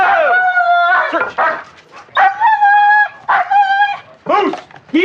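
A police dog on a search of a yard, barking in loud repeated bursts mixed with high whimpers and yelps, close by, with a few gaps between outbursts.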